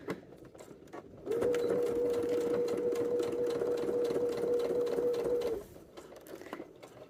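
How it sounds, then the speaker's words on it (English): A sewing machine stitches a collar onto an Orchards dress in one steady, continuous run of about four seconds, humming at an even pitch before stopping, with quiet room sound on either side. "Okay, I'm going to sew it."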